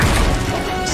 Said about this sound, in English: Stop attacking my train.